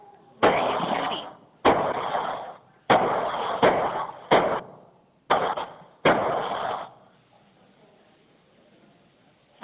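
Six loud, sharp gunshots fire close by in a rough, uneven rhythm, each one trailing a short echo before the clip falls quiet.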